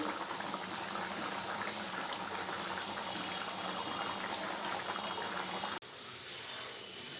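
Prawns cooking in a pan with a steady bubbling, boiling hiss that runs continuously, close and moderately loud, before cutting off sharply near the end and resuming slightly quieter.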